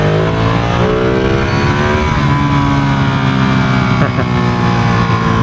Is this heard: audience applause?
no